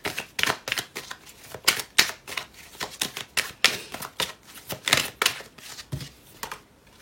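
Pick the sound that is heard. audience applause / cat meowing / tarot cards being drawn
tarot cards being drawn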